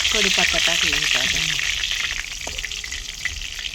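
Leaves hitting hot oil in a pan on a wood-fired stove produce a loud, close, continuous frying sizzle. A voice talks over the start before the crackle carries on alone.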